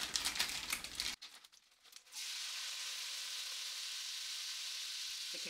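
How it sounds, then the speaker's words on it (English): About two cups of onions go into a soup pot with a crinkling rustle, then settle into a steady soft sizzle that holds on its own. "we're going to add our vegetables. So this is about 2 cups of onions."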